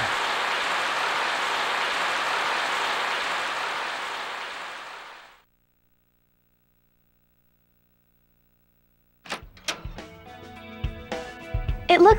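Steady broadband rain hiss in the video game Growlanser II for about five seconds fades out into silence, followed later by scattered clicks and faint tonal game sounds.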